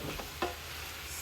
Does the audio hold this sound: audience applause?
no